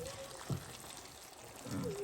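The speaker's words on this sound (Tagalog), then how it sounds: "lagyan na natin ng boiling water para lalambot siya" Boiling water pours into a pot of Filipino beef steak in its sauce, a soft, quiet splash and trickle in short bursts with faint background noise.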